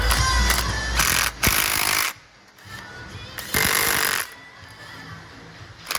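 Loud bursts of a pneumatic impact gun rattling in short runs while removing the rear wheel bearing on a 2018 Subaru Forester, separated by quieter pauses with faint background noise.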